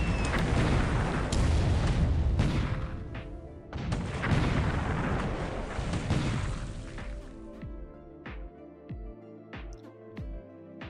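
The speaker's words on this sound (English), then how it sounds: "We're dueling with the coastal guns here at Ambon, so we're trying to land some troops here, of course." Heavy coastal guns trade fire in a WWII naval strategy game at Ambon, with repeated loud booming blasts and rumbling explosions, dense at first and then spaced into separate thuds and hits.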